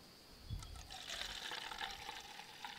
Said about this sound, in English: Let's pour another one.